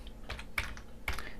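Fingers tap a computer keyboard in three or four quick, close keystrokes within a second and a half.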